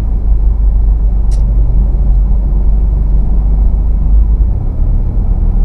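A car crawls slowly through heavy, long traffic, its steady low rumble of engine and road noise continuous and close, with no talk.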